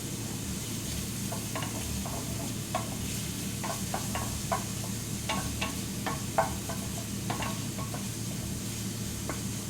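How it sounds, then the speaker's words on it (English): Bacon sautés in a pan, giving a steady crackling sizzle with frequent short pops and a few soft clinks of stirring, heard alone at moderate loudness. "We're going to saute it."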